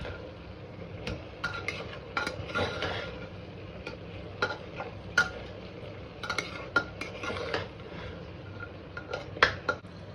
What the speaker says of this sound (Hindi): अब हम चावल ऐड करने जा रहे हैं। चलिए चावलों को भी मिक्स कर देते हैं।